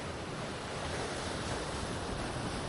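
Strong ocean waves at Napsan beach, a constant broad roaring wash of surf mixed with wind buffeting the microphone, steady and fairly close with no voices.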